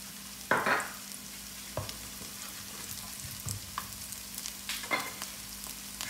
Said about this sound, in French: Tu fais bien chauffer l'huile.